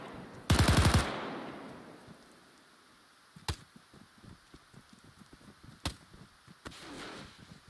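Welrod suppressed pistol in a WW2 video game firing a burst of rapid shots up close, followed by a few isolated sharp, muffled reports spaced seconds apart over low background ambience.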